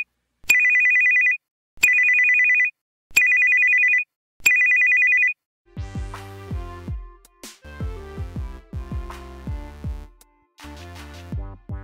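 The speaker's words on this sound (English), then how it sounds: "you'll hear the new ringtone you've set." An Android phone ringtone for an incoming call: four identical, evenly spaced electronic beeping rings, then a brighter melodic chime tune that plays in short repeated phrases, close and clear with no voices.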